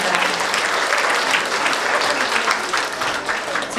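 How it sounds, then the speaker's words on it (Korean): A crowd at an election campaign office opening for a Daegu education superintendent candidate claps, sustained, dense applause that stays loud and even from start to finish. "오신 여러분들을 위해서 모두 박수 한번 부탁드립니다."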